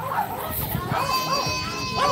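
Small chihuahuas barking and yipping in short excited bursts, mixed with a person talking nearby at an outdoor RC car bash event.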